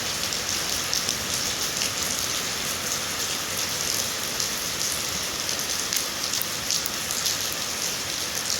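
Heavy daytime rain pours steadily in a dense, even hiss of drops striking surfaces, loud and unbroken throughout with no voices.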